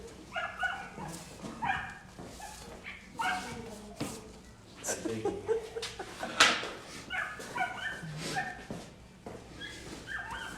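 Dogs indoors during a snap-lock flooring job, barking, yipping and whimpering in repeated bursts at close to moderate distance, mixed with people talking.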